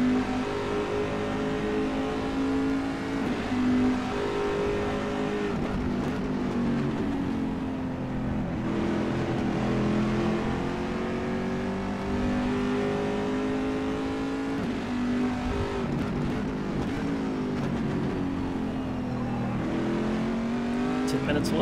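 C7.R race car in rFactor 2 lapping Sebring, its engine droning steadily and loud throughout with rising and falling pitch through gear changes and corners, close and continuous, with a voice occasionally heard underneath.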